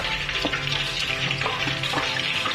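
A spoon stirs tempeh mendoan batter with a little baking powder mixed in, giving close, steady wet scraping with a few sharper knocks against the bowl and no talking.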